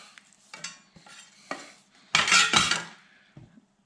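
A knife scrapes cut onion pieces off a cutting board, with a few scattered light taps and clicks, then a louder, longer scraping sweep near the end, close by, with no talking.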